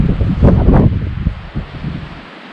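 Wind gusts on a cold night at an empty campsite, buffeting the microphone and rustling leaves in loud bursts that fade to a softer rush.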